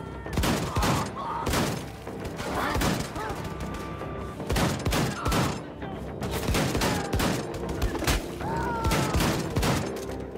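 Dense automatic gunfire from the shooter game Wolfenstein 2, rapid bursts and single shots crackling repeatedly over about ten seconds with thuds and occasional shattering, while someone talks over the action.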